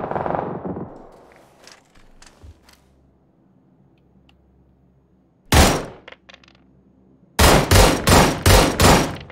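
Gunshots in PUBG: a sharp crack that rings out, a quiet stretch, a single shot, then a volley of five or six loud closely spaced rounds.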